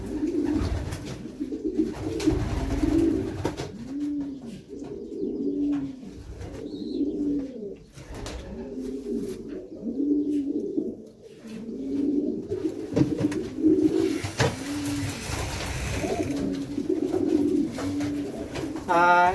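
Racing pigeons in Madrid, Spain coo repeatedly in soft, rolling low calls, close by, with rustling and brief faint voices in the background.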